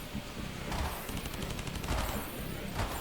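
Fast SMG fire in third-person Call of Duty zombies, a dense continuous rattle of rapid shots with brief gaps, loud and busy against game noise, no talk.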